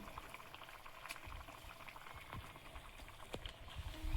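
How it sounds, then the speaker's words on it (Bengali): Fish curry broth bubbling at a boil in a pot, a soft continuous bubbling with scattered pops and a few sharper clicks, fairly close, growing slightly louder toward the end. "ঝোলটা ফুটছে, মাছগুলো দিয়ে দেব।"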